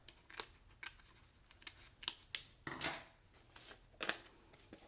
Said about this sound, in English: I'll take my trusty llama template again and cut along the back